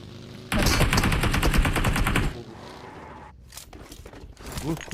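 Rapid automatic gunfire bursts in the mobile battle-royale game PUBG Mobile, loud and dense for about two seconds, followed by quieter scattered game sounds.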